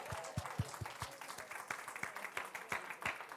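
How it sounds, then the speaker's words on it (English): A small audience at a Sunday church celebration claps, with a few distinct, uneven hand claps heard individually rather than a dense roar, moderately close. "another round of applause"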